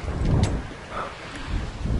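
Rain and rolling thunder in the video game Minecraft, a steady wash of rainfall with a low, rumbling thunder swell that rises and fades again, heard alone with no talking.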